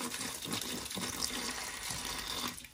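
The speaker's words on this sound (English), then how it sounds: "Can add some reverse osmosis water to the soil and then top off the water dish." Reverse osmosis water pours into a turtle's water dish in an enclosure, a steady close trickle and splash of filling liquid running continuously without talk.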